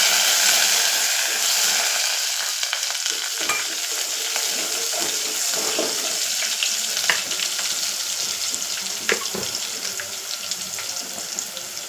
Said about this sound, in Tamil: இப்போது கடுகு நல்லா பொரிஞ்சு வருது